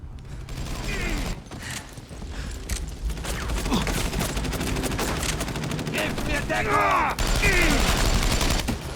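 Gunfire and grenade explosions in the WWII shooter Enemy Front: dense, continuous rifle and machine-gun bursts with heavy blasts, loud and close, mixed with game effects and faint voices.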